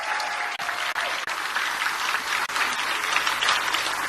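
Steady, sustained applause from a crowd at a political campaign rally in Greenville, North Carolina, a dense wash of clapping that continues loud and unbroken with no voices on top.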